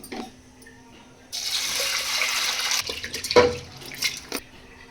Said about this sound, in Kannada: ಬೇಳೆನ ಒಂದು ಕುಕ್ಕರ್ಗೆ ಹಾಕಿ ತೊಳ್ಕೊತಾ ಇದ್ದೀನಿ